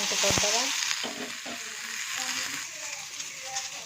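Okra and onions fry in hot oil in a kadai over a high flame, giving a steady close sizzle and crackle while someone talks over it.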